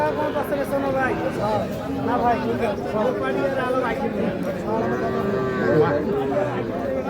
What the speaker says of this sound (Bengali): সুন্দর সাইজের শাহিওয়াল ষাঁড় বাছুর দেখছি